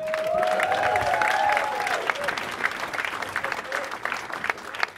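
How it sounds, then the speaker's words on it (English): A comedy club audience at Yuk Yuk's claps and cheers, loud at first with whoops rising above the applause, then thinning into scattered clapping. "Make some noise for Fred Kerr, everyone!"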